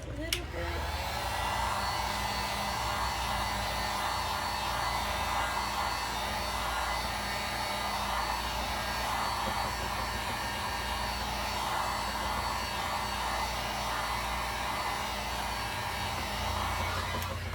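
A hair dryer blows steadily on a painted wooden door hanger between coats of paint, a loud, unbroken whoosh that runs close up for the whole stretch with no talk over it.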